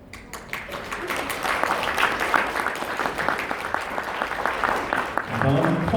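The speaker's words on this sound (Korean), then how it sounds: "단상을 올려오실 때 여러분 큰 박수로 축하해 주시면 감사하겠습니다" Audience at a Korean child welfare association's 70th anniversary ceremony applauds award recipients, a dense, steady round of clapping that builds quickly and holds, with a voice speaking over it near the end.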